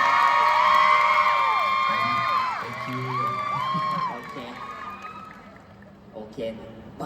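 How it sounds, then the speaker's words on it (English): An audience at a live talk event claps and cheers with whoops, loud at first and then fading out, while musical tones and a host's voice carry over the top. "everyone please give him a round of applause"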